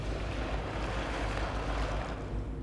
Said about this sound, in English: And it's just water sound effects.